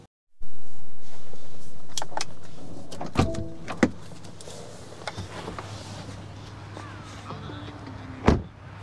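An electric car is closed up, first with a long whirring power window rising, then several sharp thuds and clicks of doors shutting and latching, ending in one loud final slam.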